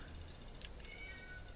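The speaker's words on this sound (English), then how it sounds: "I don't know what she's in there meowing about." A cat meows indoors, two brief cries heard faintly against a steady low room hum, with no talking over them.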